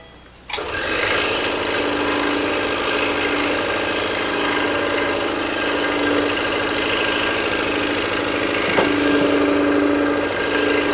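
A scroll saw hums and buzzes steadily as it cuts wood, starting abruptly and running continuously at a constant, close, fairly loud level.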